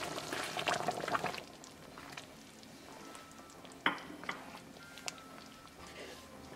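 A spoon stirs creamy matar paneer made with heavy whipping cream in a pan, giving soft wet sloshing followed by a few faint clinks and scrapes against the metal, all quiet and close.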